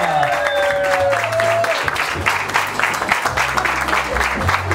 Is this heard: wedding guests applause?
yes